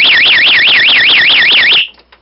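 A security siren module blares an extremely loud, rapidly warbling electronic wail that rises and falls steadily for about two seconds, then cuts off abruptly into near silence.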